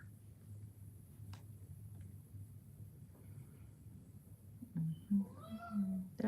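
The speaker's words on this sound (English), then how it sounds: "That is my cat. If anybody heard that, that's my kitty cat." A pet house cat meows near the end, a couple of short rising cries following a quiet stretch of low indoor hum, close to the microphone.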